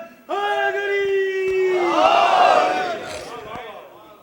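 A crowd at a Muharram majlis gathering in Maryland shouts a religious slogan in unison, one loud sustained collective cry that swells and fades over several seconds.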